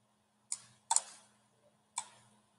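Three crisp computer mouse clicks while working in Adobe Animate, a single click then a quick double tap and another lone click, close and dry against a faint steady hum.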